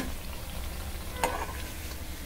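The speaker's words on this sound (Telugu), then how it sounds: "ఇదిగోండి ఈ కలర్ వచ్చే వరకు వేయించుకోవాలి." Cabbage vadas deep-fry in oil with a soft, steady bubbling hiss that holds level throughout, broken once by a brief faint click.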